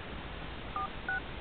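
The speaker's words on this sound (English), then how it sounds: "Let's type in his number real fast." Two short telephone keypad dialing tones sound in quick succession, clean and distinct above a quiet background hiss, with no talk.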